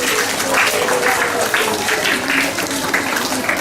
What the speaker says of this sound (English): big round of applause for all of you